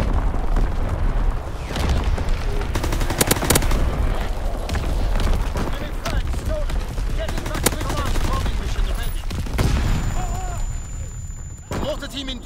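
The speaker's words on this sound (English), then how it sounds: "Firing primary battery." Heavy primary battery gunfire in the Call of Duty video game, a dense barrage of booming shots and sharp cracks rolling on for several seconds, with voices talking over the din.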